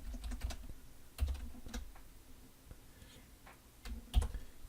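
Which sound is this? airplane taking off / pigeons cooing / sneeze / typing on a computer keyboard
typing on a computer keyboard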